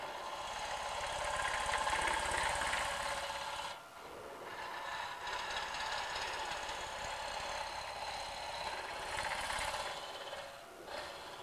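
A wood-turning scraper cuts aggressively into a spinning vessel on a lathe, giving a rough, continuous rasping chatter with a low rumble, briefly easing twice as the tool lifts off the wood; no talking.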